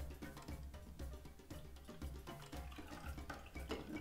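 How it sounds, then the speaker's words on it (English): A cocktail trickles slowly through a strainer into a glass, a soft, continuous liquid pour with faint gurgles and small drips, quiet and close, with no talking. "It's gonna pour pretty slowly."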